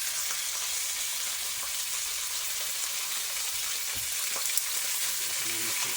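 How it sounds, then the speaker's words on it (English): Slices of pork browning in a hot pan give a steady, close, even sizzle and crackle that runs throughout, with a few small pops and stirring sounds toward the end and no talking. "take all of our slices of pork here and just brown them off"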